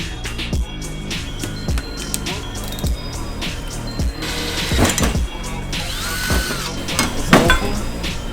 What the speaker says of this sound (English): So to avoid that, you just drill the relief hole.